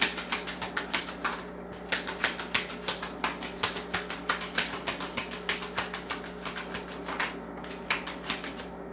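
Oracle cards are shuffled by hand in a steady run of quick, crisp riffling taps and flicks, close and repeated throughout with no talking.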